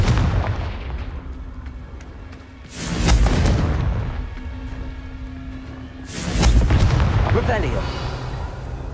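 Two loud spell blasts go off in Hogwarts Legacy, each a booming burst at about three and six seconds that rolls off slowly, with ongoing game noise between them.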